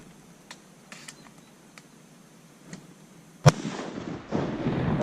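A single loud, sharp shotgun blast on a fall waterfowl hunt, following a few faint clicks and knocks and trailing off into a lingering outdoor rumble.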